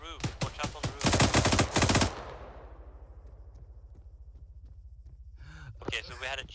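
Heavy bursts of rapid automatic fire from a grenade machine gunner on a rooftop in ArmA 3, loud and close, then fading into a low rumble while a voice gasps and speaks.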